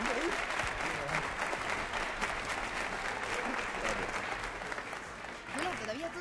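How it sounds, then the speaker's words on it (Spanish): Studio audience at a 1980 Madrid television game show breaks into loud, sustained applause for the winners, a dense, even roar of clapping that fills the whole stretch with a few voices mixed in. "Un aplauso ahora sí muy fuertote para los ganadores del programa"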